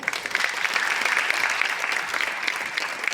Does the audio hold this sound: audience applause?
yes